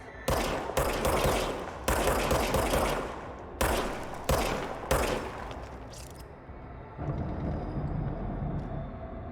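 Gunfire rings out in the action game Control, several loud rapid volleys in quick succession, then a quieter stretch with a lighter tail of shots and ambient rumble.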